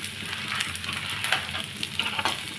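Masoor dal fries in a pan for ivy gourd chutney, giving a steady close crackling sizzle with small pops and stirring scrapes throughout.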